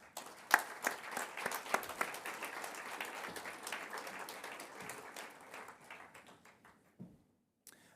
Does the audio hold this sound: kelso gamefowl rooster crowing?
no